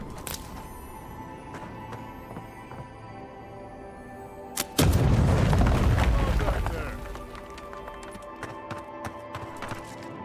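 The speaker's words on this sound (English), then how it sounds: "Somebody heard the explosion." A grenade explodes in the fantasy action game Avowed with a sudden deep boom that rumbles for about two seconds before fading, set against ambient game sounds and a talking voice.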